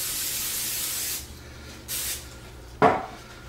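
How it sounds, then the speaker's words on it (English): Cooking spray hisses into a cast iron skillet in a long steady burst, followed by a brief second puff and then a sharp metallic knock, all close and without talk. "You can use a little bit of spray."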